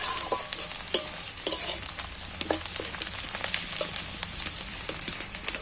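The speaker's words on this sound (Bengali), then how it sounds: "এইবার আমি কাঁচা লঙ্কা কুচোনাগুলো তুলে দিই, যাতে কাঁচা লঙ্কাগুলো একটু ভালো ভাজা হয়ে যায়" Chopped green chillies and onion frying in a pan alongside fish, a close, steady sizzle broken by frequent scraping stirs and light crackles, with no voices.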